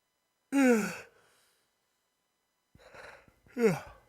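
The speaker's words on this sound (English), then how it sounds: "Sorry for yawns, guys." A long, breathy yawn-like exhale, then a pause, followed by a softer breath and a second voiced yawn, close to the listener.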